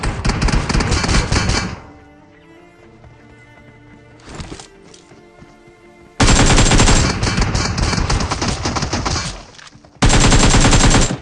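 Loud, sustained bursts of Thompson submachine gun fire in the video game PUBG, the gun fitted with a suppressor. Long volleys are broken by a quiet stretch with a short burst in the middle, then heavy firing resumes.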